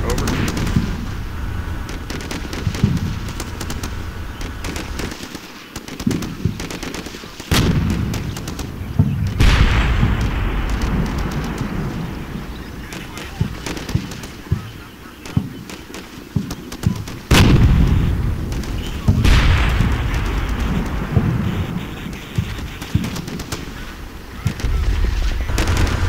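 Squad gunfire and explosions crackle through a Combat Mission: Shock Force battle at a berm, with scattered sharp shots, heavier booms and a sustained rumble of firing over most of the stretch.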